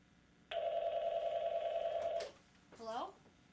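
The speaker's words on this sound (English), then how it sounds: "when my phone rang" An office telephone rings with one long, loud electronic trill lasting nearly two seconds, followed by a brief voice after it stops.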